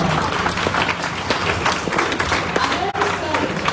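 Loud, dense applause from a crowd at a coaching institute's selection celebration, washing continuously over the whole stretch with some murmuring mixed in.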